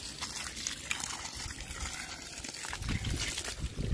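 Water splashing and trickling as bricks are washed outdoors in the morning, a steady wet rush that grows louder and heavier toward the end.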